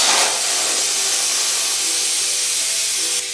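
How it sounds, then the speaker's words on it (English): Helium gas hisses steadily from the nozzle of a party tank into a balloon for an Air Swimmers flying fish, a loud, continuous broadband rush that cuts off abruptly near the end. "Place the nozzle of the helium tank into the back of the balloon and then, holding firmly, press down on the nozzle."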